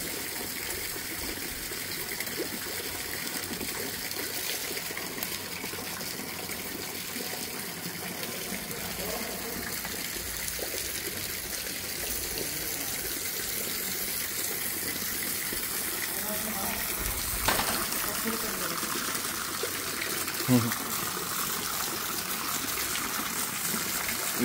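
Water gushes steadily over lotus and other plant leaves during an outdoor evening washing, a continuous near splash with a couple of brief louder knocks near the end.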